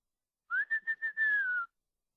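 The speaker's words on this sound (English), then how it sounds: "What is the special whistle?" A single person whistles a short call: four quick chirps followed by a longer sliding note, clear and close, then silence.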